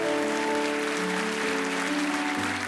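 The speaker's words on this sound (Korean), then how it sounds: "큰 박수로 축복해 주시기 바랍니다." Sustained applause from a church congregation blessing a newcomer family, full and steady, with held keyboard chords ringing beneath the clapping.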